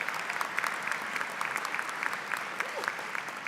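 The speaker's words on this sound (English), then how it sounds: "give a round of applause for working here" Audience applause at a university graduate commencement ceremony, broad sustained clapping from a large crowd, fairly distant and steady, with sharper individual claps scattered across the wash.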